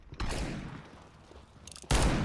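Gunfire in a Wild West video game, with sharp broadband shots and a loud blast near the end over a dense rumbling background.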